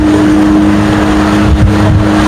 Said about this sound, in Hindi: अब ज़रा आवाज़ को भी इंजॉय करें कि स्पीड बोट की जो आवाज़ है वो कैसी है।